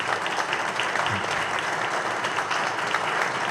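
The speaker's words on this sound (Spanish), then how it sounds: "pedir un aplauso al compañero Pancho que está presente acá" Steady, dense applause for compañero Pancho at a gathering at the Ateneo Perón Balbín. A full room claps evenly and continuously, close and fairly loud, with no speech over it.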